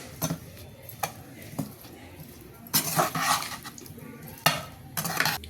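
Amla (Indian gooseberry) pickle pieces stirred with salt in a bowl, with a spoon clinking and scraping against the dish in irregular bursts, close and moderately loud.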